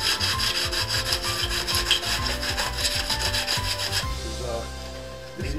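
Steady, rhythmic rubbing of sandpaper across the edges of a shaker scoop for a Roadmaster Coupe, knocking down bumps and stray fibres, close and continuous, easing off near the end.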